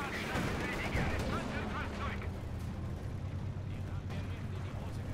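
Machine-gun fire in Company of Heroes 2, rapid bursts over continuous battlefield rumble and explosions, loud and dense from the start and easing slightly after two seconds.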